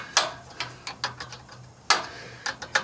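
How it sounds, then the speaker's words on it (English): A 3/8-inch ratchet clicks in several quick, close bursts while a brake line fitting on a surge-style trailer brake is tightened, with brief pauses between strokes. "now I'm taking my 3/8 and tightening up the brake line to it before I bolt this to the trailer"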